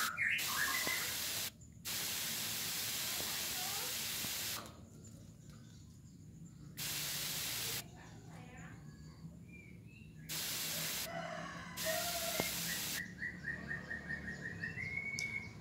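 A sprayer hisses in repeated bursts of water misted onto a white-rumped magpie robin, while the bird chirps and calls between and over the sprays, close and fairly quiet.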